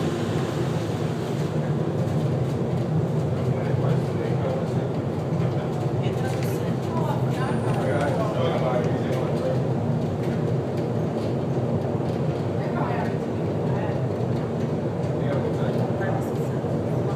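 Steady low rumble and rattling of the Miami Metromover monorail in motion, heard from inside a carriage, with faint voices and whirring throughout.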